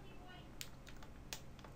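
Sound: typing on a computer keyboard

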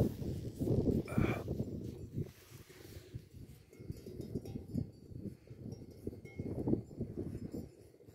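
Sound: bell on livestock clanging

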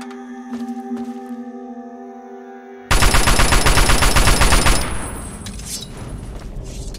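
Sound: gunfire at a milsim firing line in Fallout 3 video game

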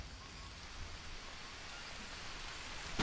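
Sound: rain in the video game Green Hell

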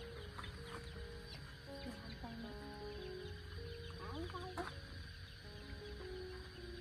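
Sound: chickens clucking

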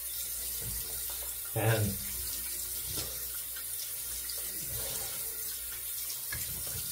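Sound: water running from a tap while rinsing a razor

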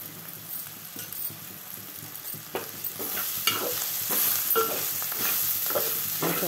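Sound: frying spices and ginger in pan for dondakaya curry

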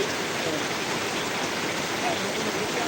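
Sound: sudden rain

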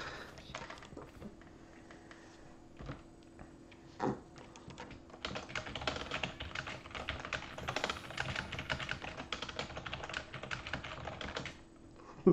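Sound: typing on a computer keyboard

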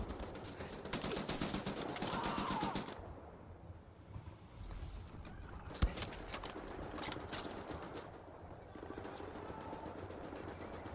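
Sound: gunfire in video game Wolfenstein

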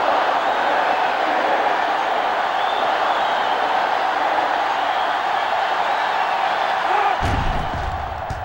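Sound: stadium crowd at field goal in NCAA Football 07 video game

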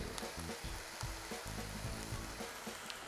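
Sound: butter sizzling in a pan

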